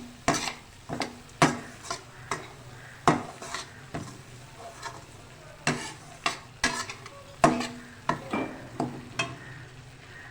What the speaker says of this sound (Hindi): अब इस घी में मैं सूजी को अच्छी तरह से भूनूंगी और स्लो आंच पे भुनेंगे